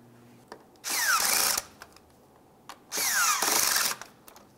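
A power tool drives radiator bracket mounting bolts on a 2011-2018 Volkswagen Jetta, giving two loud, close bursts of whirring of about a second each, separated by a pause with faint clicks and handling noise.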